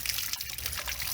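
Water gushes and trickles out of an RV water heater tank as a nozzle flushes sediment from inside, a short, steady splashing stream heard close up.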